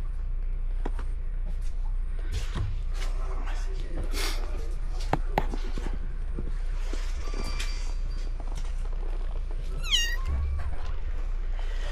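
A kitten that survived a house fire meows a few times among shuffling and handling noises and a low background rumble, with people talking nearby.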